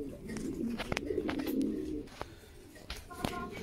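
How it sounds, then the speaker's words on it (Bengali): Lahori pigeons at a breeding farm coo in low, repeated throaty phrases, several birds overlapping close by, with a few sharper chirps and clicks breaking through toward the end. "আজকে আমার খামারের কিছু লাহোরি কবুতর সেল করব"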